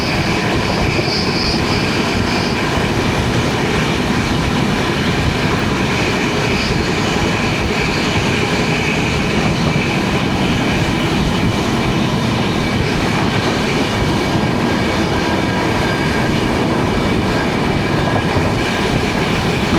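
A Jan Shatabdi express runs along the Alappuzha route, its carriages giving a loud, continuous rolling rumble with rhythmic clickety-clack of wheels over rail joints and occasional faint squeal, heard from on board with no talking.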